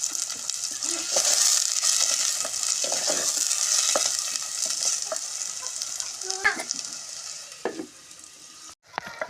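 Onion fries in a pan for a Telugu ridge gourd curry, giving a continuous close sizzle broken by scraping stirs from a spoon, with brief clinks and no speech.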